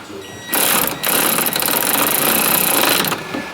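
Dense, rapid mechanical clicking and grinding close up, steady for a few seconds with a brief pause, as a ratchet slowly turns a stainless steel bolt on a Land Rover steering damper.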